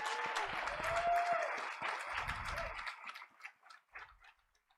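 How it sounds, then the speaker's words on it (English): Audience applause at a school board of education meeting, a moderate patter of clapping that fades gradually into scattered individual claps. "Let's give them another round of applause."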